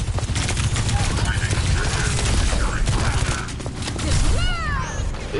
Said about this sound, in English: Rails empowered and ready to fire.